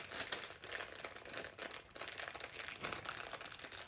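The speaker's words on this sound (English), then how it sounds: "You now need to take your little plastic bag or your piece of cling film and pop your silver clay into that." A plastic bag or piece of cling film crinkles and rustles continuously as silver clay is wrapped in it, close and steady with small crackling peaks throughout.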